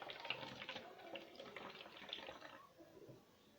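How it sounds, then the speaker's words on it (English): Rice water pours steadily into a spray bottle with a splashing, trickling sound, close and fairly quiet, then tapers off near the end. "we are going to transfer it into our spray bottle"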